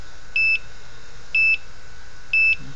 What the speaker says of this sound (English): I do like the alarms on this, how it flashes the screen and flashes the LEDs at you